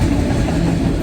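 A CSX autorack freight train with empty autoracks rolls past close by, giving a loud, steady low rumble of wheels and cars with no horn or voices.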